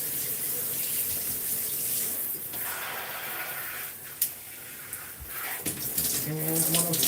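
Shower water runs continuously while hair is rinsed during a wash-and-go routine, a close, steady hiss and patter with brief splashes and knocks, and a voice speaks faintly near the end.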